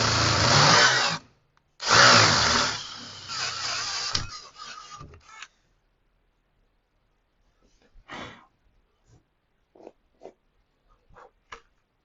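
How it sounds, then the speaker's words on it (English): A drill with a 3/8 bit enlarges a pilot hole in two loud sustained bursts, then quiet handling noises and faint scattered knocks. "you took your 3/8 drill bit and drilled that hole out"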